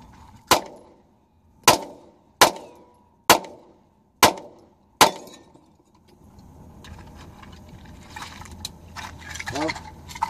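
Six sharp gunshots from a Ruger LC9 pistol crack out in a steady, evenly spaced string over the first five seconds, loud and close, then give way to low rumbling noise and faint background sound.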